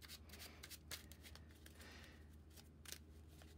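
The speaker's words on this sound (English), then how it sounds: "so I'll go ahead and give those a quick shuffle." A deck of Marvel Champions aspect cards is shuffled near at hand: quick, faint riffling bursts that repeat in a loose, uneven rhythm, with no voice over them.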